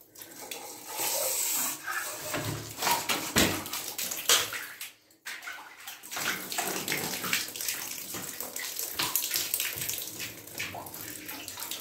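Water gushing steadily out of a drain while rods are rinsed during a collector replacement in a garden crawl space, a loud continuous rushing and splashing with a brief dip midway.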